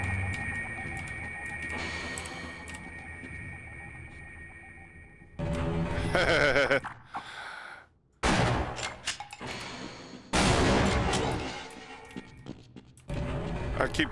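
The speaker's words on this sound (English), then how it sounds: "I keep killing them with the explosions." Booming explosions and bursts of gunfire-like blasts erupt in clusters in the PC game Half-Life, loud and close, with abrupt cuts and electronic tones between them.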